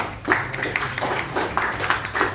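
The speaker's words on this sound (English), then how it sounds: "Please give her a big round of applause." A small audience at a creativity and entrepreneurship session applauds a student, giving a short, moderately loud patter of hand claps with a few distinct individual claps.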